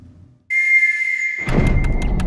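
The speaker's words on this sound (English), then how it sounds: "Whistle, if you can hear me." A ghostly whistle in a trailer for the horror film Insidious: The Last Key: one sustained, piercing tone that cuts in abruptly and holds, then is overtaken by a rumbling thud and sharp knocks.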